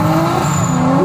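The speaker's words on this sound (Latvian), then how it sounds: "Izklausās pēc jaudīgas turbo mašīnas." Powerful black and orange turbocharged drift car at a Latvian drift cup round in Jelgava: a loud, close, strained engine roar mixed with tire squeal over a short moment.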